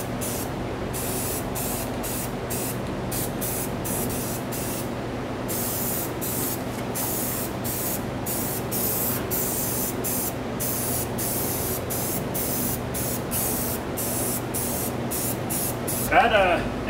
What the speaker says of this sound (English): we can actually finish spray painting these now